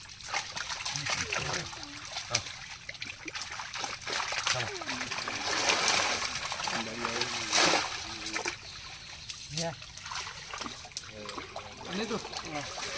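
Water poured into a fish pond splashes and trickles steadily, with several louder splatters. People talk at moments over it.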